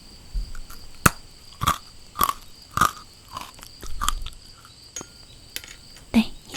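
Crystal-shaped treats bitten and chewed up close, giving a series of crisp, separate crunches about every half second to second, with soft mouth sounds between them and a faint steady background hum.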